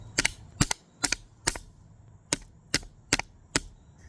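An old mallet strikes a bent Cold Steel Mayhem knife eight times in a loose rhythm, each a sharp, close, woody knock with brief pauses between blows.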